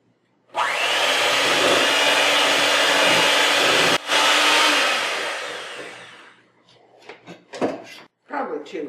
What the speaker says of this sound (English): and then with my mixer on low